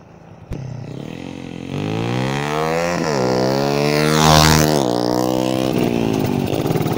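A Honda XRM motorcycle engine on a test run starts with a sharp pop, then revs loudly and close in a rising, buzzing whine that peaks and settles into a steady high drone.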